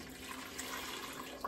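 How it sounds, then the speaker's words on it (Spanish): Water pouring steadily into a Euhomy countertop ice maker's reservoir, a continuous close splashing trickle lasting a moment and heard alone. "Miren, le voy a poner esta cantidad de agua."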